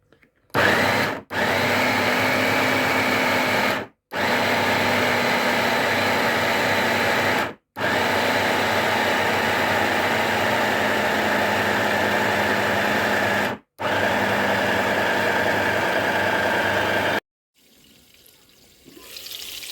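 A blender whirs loudly in several long bursts separated by brief pauses while blending a buckwheat patty mixture with egg, then stops, leaving faint background noise.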